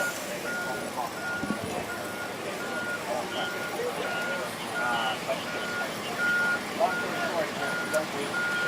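A bucket truck at a building collapse scene gives steady, evenly spaced reversing beeps that repeat throughout, partly masked by loud broadband site noise and people talking nearby.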